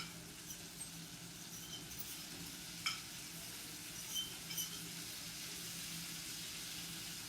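Shrimp sautéing in a pot, a faint, steady low sizzle with a few soft clicks and taps of stirring.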